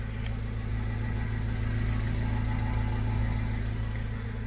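The diesel engine of a Renault Trafic 2.0 dCi van with about 600,000 km idles close by, its low rumbling throb holding even and unbroken throughout.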